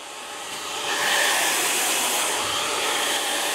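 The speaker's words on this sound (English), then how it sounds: "I dry it straight up." A hair dryer blowing close by as a pompadour fringe is dried upward with a round brush, a steady airy roar that swells slightly after the first second and holds for a few seconds, with no talking.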